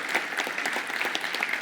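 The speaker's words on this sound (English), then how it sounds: "Round of applause." Audience applauding a pitch at a startup awards event, a brief burst of brisk, even clapping from a room of people, fairly close and continuous.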